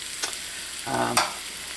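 Onions and mushrooms frying in a pan as they are stirred: a close, steady sizzle with brief scraping accents and a louder burst near the middle, with no talking.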